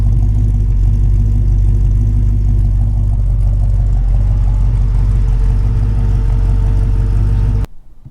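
A 1956 Ford F100 pickup with a 351 Cleveland V8 runs steadily close by, a loud, deep, even engine rumble that holds constant before cutting off abruptly near the end.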